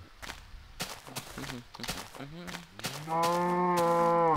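Cow mooing in a survival video game: after a few footsteps and brief clicks, a long, loud, close moo swells and holds steady to the end, heard on its own.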